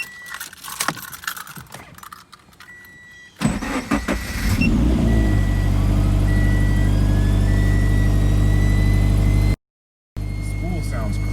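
Keys jangle and rattle before a Toyota FRS fitted with CX Racing turbo headers cranks and starts, then settles into a loud, steady idle up close, with a brief cutout near the end and a voice speaking early on.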